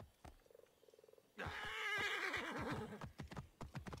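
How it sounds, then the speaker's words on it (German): A horse in the video game Assassin's Creed Origins gives a loud close whinny after soft rhythmic snorts and hoof clip-clops, followed by more hoofbeats. "Oh, das Pferd springt sogar."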